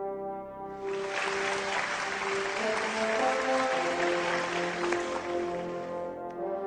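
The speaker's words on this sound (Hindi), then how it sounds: "आप लोगों को अपनी अपनी टीम्स के परफॉर्मेंसेस के लिए एक बार जोरदार तालियां बजानी चाहिए" An audience applauds the teams' performances at a cadet event, a dense, sustained wash of clapping rising in about a second and holding steadily, over a low sustained tonal drone.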